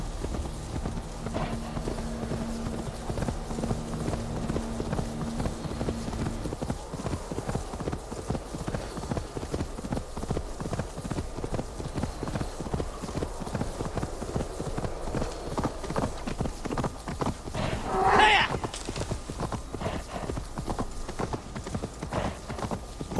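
Horse hooves clip-clop in a steady galloping rhythm throughout, with a brief whinny near the end, all from the video game Assassin's Creed Valhalla over a constant low game background.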